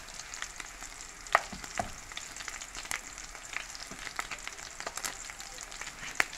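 Meat sizzles steadily in hot oil, a dense crackling hiss with scattered sharp pops, moderately quiet and close.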